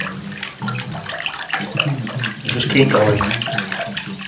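Wallpaper paste being stirred into water that is spun to one side, a steady swirling, sloshing wash throughout while a voice speaks briefly over it.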